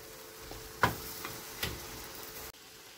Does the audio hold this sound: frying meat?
yes